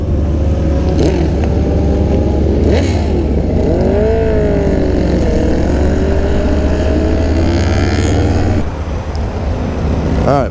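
A group motorcycle ride-out in the DMV area, engines droning steadily close by with rising and falling revs as bikes pass, a loud continuous motor roar that drops off near the end.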